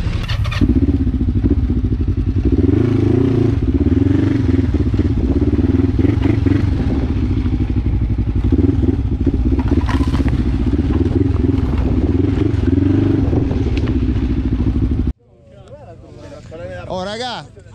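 Several motorcycles idle steadily at a stop on a summer motorcycle camping tour, a loud continuous engine drone with voices talking over it, cutting out abruptly near the end.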